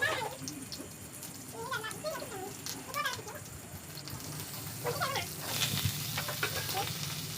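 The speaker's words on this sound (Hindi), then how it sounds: "प्याज में डालकर भिंडी आलू की सब्ज़ी बना रही थी" Okra and potato cook with onion in a home kitchen pan, giving a quiet, steady sizzle with light stirring, while a cat meows several times nearby.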